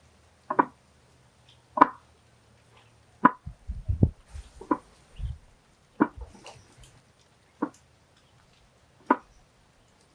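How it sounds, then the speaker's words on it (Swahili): A wooden pestle thuds into a wooden mortar of grain in slow, regular strokes, roughly one sharp knock every second or so, with a cluster of softer thumps midway, near and fairly quiet in a still setting. "na uanze kutwanga"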